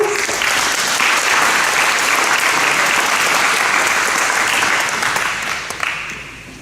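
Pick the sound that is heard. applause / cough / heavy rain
applause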